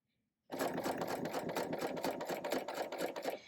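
A BERNINA sewing machine with a piping foot stitching over 10 mm piping cord starts up after a short silence and runs steadily, loud and close, with a fast even mechanical chatter.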